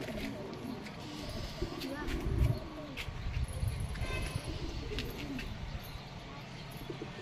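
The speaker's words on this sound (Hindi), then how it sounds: "यहाँ पर है हमारे सारे कबूतर" Pigeons coo softly from a rooftop pigeon setup, low murmuring calls mixed with a few chirps over a light outdoor background, with someone talking over them.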